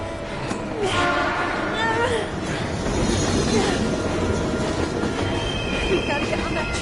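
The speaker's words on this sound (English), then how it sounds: "We gotta get on that train, Ethan." A train passing in the video game Heavy Rain, with loud rolling rumble, wheel squeal and clatter running throughout and voices speaking over it.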